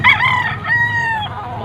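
A rooster crows loudly and close by at a gamefowl market, one long drawn-out call lasting the whole moment.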